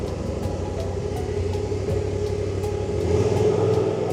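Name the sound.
Polaris RZR Turbo R driving in four-wheel drive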